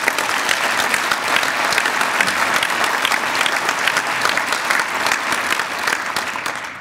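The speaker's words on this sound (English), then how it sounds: "so give them a round of applause" A steady round of applause from the audience at a bar association dinner, dense even clapping from many hands that carries on without pause and tapers slightly at the close.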